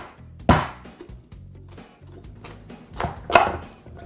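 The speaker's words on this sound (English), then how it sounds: "you're going to want to use a hardier knife, more of a chef's knife, to actually kind of cut through the vegetable itself" A sturdy chef's knife chopping through a hard vegetable, two sharp cuts striking the board about three seconds apart, with quieter scraping and handling in between.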